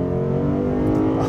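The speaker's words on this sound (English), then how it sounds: "Oh, that engine." A 2022 Lexus IS500 with its V8 engine gives a loud, steady rumbling drone that holds close and constant for just over a second, with no talking.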